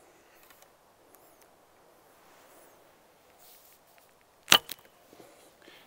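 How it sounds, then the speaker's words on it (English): A lightweight arrow is loosed from an Ottoman short Sipahi hybrid bow, a single sharp, close snap and whoosh with a few faint follow-up ticks over quiet outdoor background. "You hear it a bit loud with the lightweight arrows, but they fly nice."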